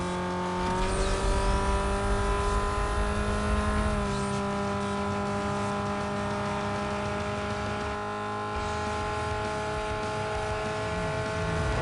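A Chevrolet Cobalt SS racing in Need for Speed Most Wanted (2005), its engine held high near the rev limiter in a steady, loud buzzing drone with a slight dip in pitch partway through, no voices.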